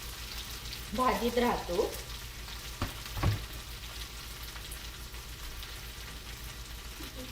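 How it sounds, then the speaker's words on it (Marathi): Okra fries in oil with asafoetida, giving a soft, steady sizzle close by, with a short stretch of speech and a couple of light utensil knocks. "बघा कसा सुरसुरीत आवाज आलेला आहे"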